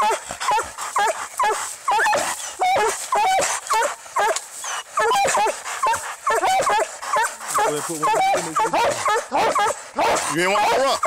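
Treeing Walker Coonhound fighting a raccoon outdoors, barking, yipping and whimpering in rapid, frantic bursts close by, with people talking over the commotion.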